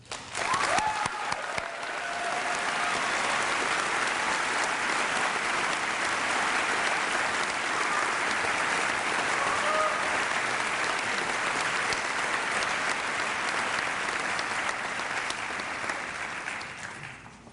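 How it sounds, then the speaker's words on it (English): A large crowd at the 2009 Fulton High School graduation gives a long, loud round of applause for the graduates, a thick unbroken wash of clapping that holds steady for well over a quarter minute. "I'd like to get another round of applause for all the graduates."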